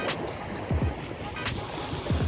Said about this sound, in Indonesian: Ah, ombaknya udah mulai lah.